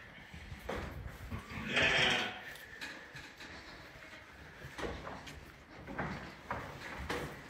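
Goats on a farm give a loud bleat near the start, followed by fainter, scattered calls. Background rustling and movement noise continue throughout.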